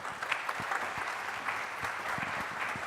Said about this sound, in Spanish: Un fuerte aplauso a don Víctor Hugo por esta hermosa charla que nos ha presentado